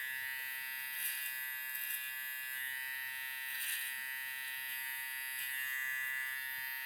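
An electric hair trimmer hums steadily during a barber's mid skin fade haircut, a constant high buzz with slight swells as it moves along the head, close and alone without talk.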